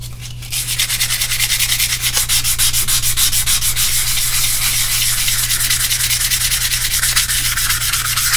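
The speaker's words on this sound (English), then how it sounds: "And I'm going to take me some sandpaper here, some 180 grit." Close, loud, continuous rasping of 180 grit sandpaper worked steadily over a hobby scale model of an LST landing ship, with a low steady hum beneath and no talking.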